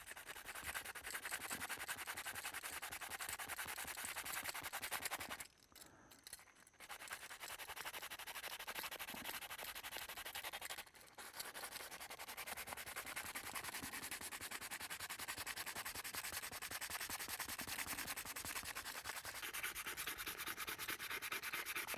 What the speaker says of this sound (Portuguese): Primeiro eu pego a lixa 100